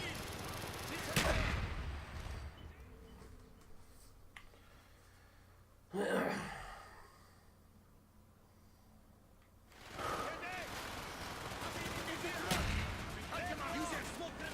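In the video game Call of Duty: Black Ops, mortar strikes and gunfire burst out as several loud booms spaced a few seconds apart, with rumbling battle noise and voices in between.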